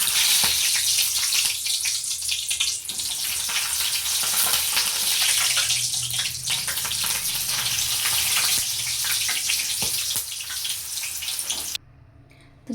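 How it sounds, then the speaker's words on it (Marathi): Green chillies frying in hot oil beside vada pav, a loud continuous crackling sizzle with spitting bursts and faint stirring, cutting off abruptly near the end. "तर आता आपल्याला पावासोबत खाण्यासाठी इथं मी मिरच्या तळते"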